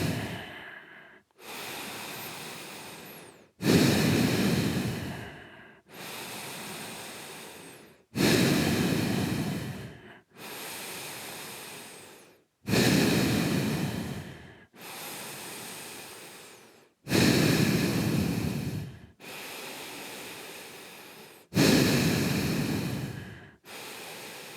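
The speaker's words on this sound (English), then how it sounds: "So just breathe through the nose." Bhastrika pranayama in Hatha Yoga, forceful breaths drawn in and pushed out through the nose, a close, loud, rhythmic series of about ten hissing strokes with short gaps between them and no speech.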